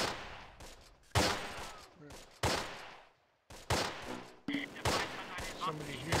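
Heavy gunfire in the WWII strategy game Close Combat: repeated loud volleys and machine-gun bursts separated by short gaps, with faint voices mixed in.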